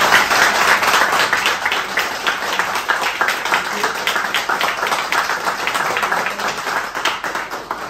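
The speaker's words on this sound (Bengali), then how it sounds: "আমি চাই সবাই স্যারের জন্য, ইনস্টিটিউটের জন্য 5 মিনিট লাগাতার হাততালি চাই" Students applaud their teacher and institute at a mobile phone repair training centre in Kolkata: dense, sustained clapping from many hands, loud and steady from start to finish.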